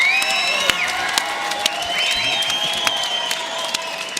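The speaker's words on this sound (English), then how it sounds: "Ladies and gentlemen, let's have a nice round of applause for both brawlers" A crowd at a bare-knuckle fighting event in the Cheyenne Ice and Events Center applauds both brawlers with steady clapping, whoops and whistles ringing over it, loud and sustained throughout.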